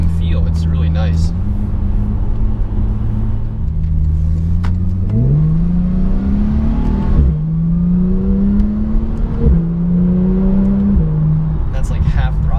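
A 2016 Porsche 911 Turbo S accelerates at half throttle, its engine note climbing steadily through several rising sweeps with brief shifts between them, loud and continuous from inside the cabin.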